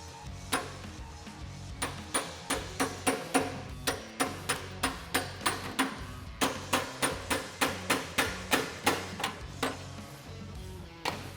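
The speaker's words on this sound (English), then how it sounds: "I'm gonna tap out the factory band clamps" A hammer taps out the factory exhaust band clamps on a 2018-2020 Mustang GT during a cat-back exhaust swap, giving a long, steady series of sharp metallic knocks, close and evenly paced with a brief pause midway, no talk.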